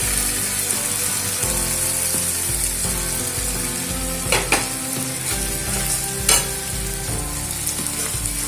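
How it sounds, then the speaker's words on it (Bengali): Spice paste sizzles in a pan as yogurt goes in for a curd-style rohu fish dish; the constant frying crackle is joined by stirring scrapes and two sharper clattering bursts, with nobody talking. "মশলাটা ভাজা হয়ে গেছে এবার এর মধ্যে দিয়ে দেবো দিয়ে রাখা টক দই"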